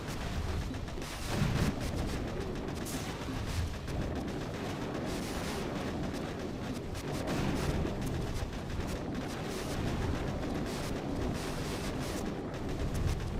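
Rocket helicopter spread fire in Boom Beach, a volcano-island attack: a dense, continuous barrage of booming blasts and crackling impacts rumbling steadily throughout, with no talk.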